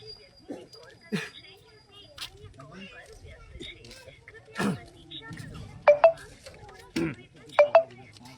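A phone call to an official rings out in short double beeps, heard twice, over a quiet background of distant voices and outdoor noise.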